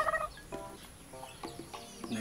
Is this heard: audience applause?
no